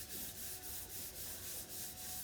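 A wooden furniture surface is hand-sanded with folded sandpaper, steady rhythmic back-and-forth rubbing strokes, close and fairly quiet, with no talking.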